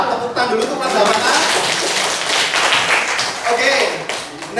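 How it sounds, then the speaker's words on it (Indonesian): Students of class 8A clap together in a classroom during a teacher-training lesson in Surakarta, loud dense clapping mixed with children's voices calling out. "Tepuk tangan dulu untuk kelas 8A."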